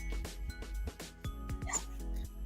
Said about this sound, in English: Here, stray dog. Come here.